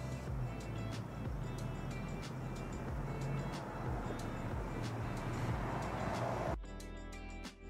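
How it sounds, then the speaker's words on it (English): City traffic background ambience from a sound library: a steady rumble of passing cars and engines with a dense wash of street noise and faint clanks, which drops off abruptly near the end, no talk. "Let's add a second audio file by adding some city background noise."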